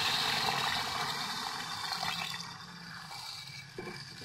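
Water is poured into a pot of aloo gosht, a meat and potato curry, giving a steady splashing and gushing rush close to the listener that eases off gradually over a few seconds.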